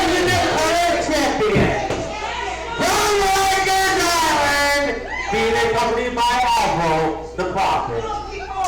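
A wrestling crowd at an AWS Aftershocks event roars, cheers and chants loudly and continuously, the noise swelling in waves around the arena.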